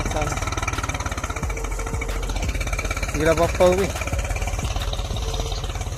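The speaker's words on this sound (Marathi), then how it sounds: "आम्ही ट्रॅक्टरजवळ आलेलो आहे. ट्रॅक्टर बघा तुम्ही" A low, steady tractor engine chugs and idles nearby throughout, on a farm field after ploughing, with a voice talking over it.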